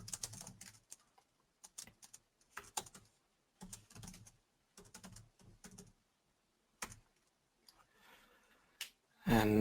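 Close computer keyboard typing while writing C++ code, bursts of quick key clicks separated by short pauses, ending in a louder clack.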